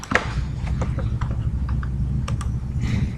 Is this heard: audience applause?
no